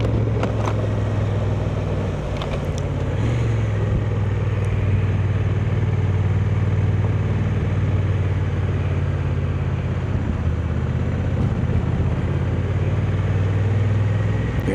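A 2025 Honda NT1100 DCT motorcycle ridden two-up in third gear holds a steady engine drone under constant wind rush at an even speed, with no talk.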